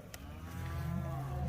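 Cattle lowing on a farm as cows and calves are separated for shipping, a steady, fairly loud bellow building over a low rumbling background with no talk.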